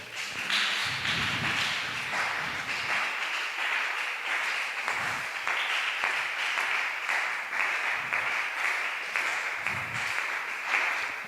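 A crowd at a church youth meeting claps steadily and enthusiastically in praise of the Lord, a dense continuous applause lasting throughout with occasional heavier thumps beneath it.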